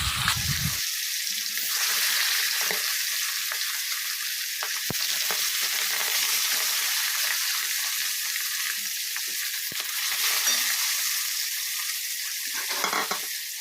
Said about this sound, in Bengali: আমি খুব ভালো করে এই মাছগুলো ভেজে নেবো